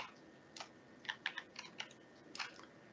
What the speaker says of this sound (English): You can change colors by typing various keys to represent different color